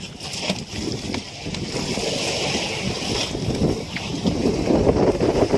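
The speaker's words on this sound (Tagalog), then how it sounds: "Yan na naman ang hangin." Steady, blustery typhoon wind roaring across the microphone by the sea in Surigao, with a low rumbling wash like water or a moving boat underneath, growing slightly louder toward the end.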